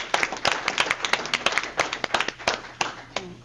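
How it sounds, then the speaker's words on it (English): An audience at a county board of education meeting gives steady applause of many hands clapping, moderately loud in a meeting room, continuing throughout. "they truly deserve a round of applause"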